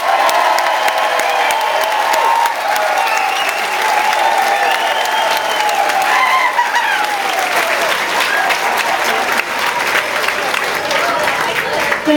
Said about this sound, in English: It is an honor to receive such a storming applause from you all